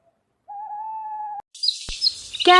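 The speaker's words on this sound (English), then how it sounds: "owl" An owl gives one clear, sustained hoot, followed by a short burst of brighter bird-like chirps and a sharp click, with no talking.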